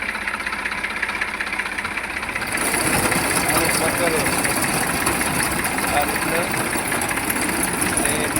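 A tractor-drawn 9-foot summer millet harvesting machine running in a field, its engine idling at first and then growing louder and rougher into a steady, heavy working drone, with someone talking over it.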